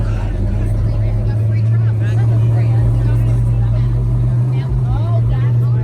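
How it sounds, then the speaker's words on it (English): A truck engine drones loudly and steadily at an outdoor car show on Long Island, a constant low rumble that dominates, with crowd chatter and voices underneath. "I can't hear her over that fucking truck that's all the way over there."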